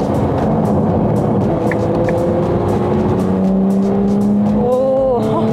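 A Ferrari 296 GTB engine in qualifying mode revs sharply as it is downshifted manually to third gear, loud from inside the car, with rising and falling tones over a continuous road roar.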